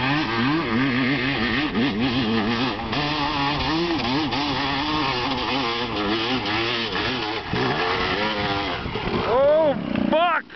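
On a steep hill climb with deep ruts, an off-road motorcycle engine revs hard and warbles as it strains, with people shouting over it. It stays loud and close, then surges and cuts out near the end.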